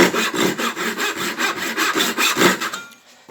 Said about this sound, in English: We're going to come down maybe about 1/4 of an inch 6 mil. with a fine tooth saw, following that shape